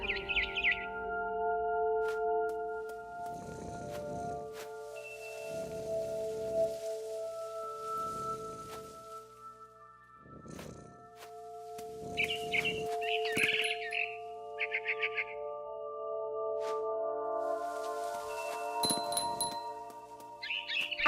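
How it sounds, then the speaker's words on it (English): A barn swallow chirps near a nest outside a window in the video game What Remains of Edith Finch, with repeated bright bird calls and pinging tones over game music and ambient sound. "Then I heard chirping outside my window."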